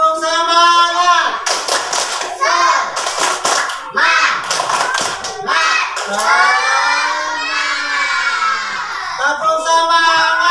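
A school class of children doing the 'tepuk semangat' clapping chant in an Islamic studies lesson, with bursts of rhythmic group clapping between loud shouted chanting and a leading voice, all close and energetic.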